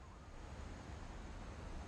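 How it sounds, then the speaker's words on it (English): Heavy ocean surf churning in What Remains of Edith Finch, a steady broad roar of 40-foot waves off the coast of Washington, loud and continuous with a windy rumble and no voices. "40-foot waves off the coast of Washington send the house and Odin to the bottom of the sea"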